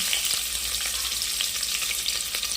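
Whole spice ingredients for mutton keema fry in a pan with a steady, close sizzle and crackle, broken by occasional light stirring taps. No voices are heard.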